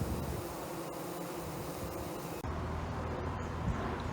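Honey bees buzz inside a hive, a dense continuous drone of many wings, loud and close, with no voices over it.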